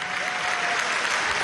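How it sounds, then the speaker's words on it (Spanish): Loud, dense audience applause at the opening of a festival celebrating the peoples of Africa, held in Venezuela, a steady wash of clapping sustained throughout with no voices standing out. "Pido un aplauso fuerte para la Madre África"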